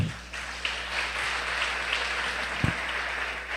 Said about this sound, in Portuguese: Se você crê nisso, aplauda Jesus bem forte.